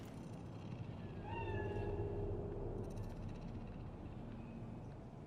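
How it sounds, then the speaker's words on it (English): A cat in the Cyberpunk 2077 video game gives a couple of short, fairly close meows over a low steady background hum. "Do you see it? The cat?"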